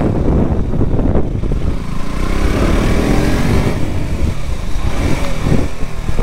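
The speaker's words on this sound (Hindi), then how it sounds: "KTM RC 200 new model" A new 2021 KTM RC 200 motorcycle rides laps on a race track in Ahmedabad, its engine droning loudly and close with rising and falling revs, heard over strong wind buffeting.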